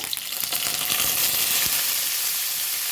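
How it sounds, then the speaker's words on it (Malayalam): Curry leaves hit hot oil in a pan and burst into a loud, steady sizzle, crackling and spitting continuously up close; no one speaks. "ഇന്ന് ഒരു ഗോൾഡൻ കളറാകുമ്പോഴത്തേക്ക് നമുക്ക് കരിവേപ്പിൻ്റെ ഇല ഇട്ട് കൊടുക്കാം"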